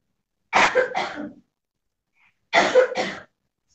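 Two separate short bursts of coughing, each a quick double cough, close to the microphone with silence between them.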